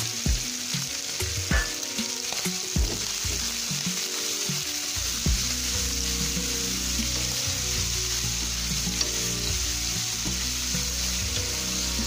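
Yangzhou fried rice frying in a pan gives a loud, continuous close sizzle with occasional knocks and stirring scrapes, steady throughout with no talking.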